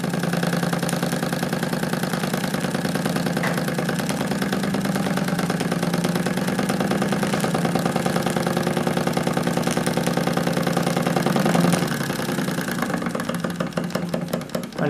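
A Wilesco D16 toy steam engine runs steadily as its fuel burns out and steam slowly fades, giving a continuous close mechanical chugging with a fast even beat and a low hum, sounding alone.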